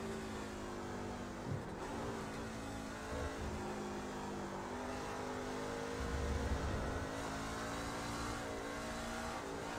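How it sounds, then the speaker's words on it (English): Race car in iRacing's C Class at Watkins Glen, engine droning steadily near and loud, with a brief downshift blip and rumble-strip judder partway through. "I downshifted over a rumble strip."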